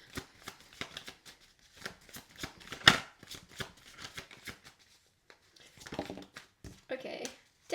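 Tarot cards are shuffled by hand in a series of soft, rapid riffling and flicking bursts with short gaps between them, close up and fairly quiet, alongside a light rustle near the end.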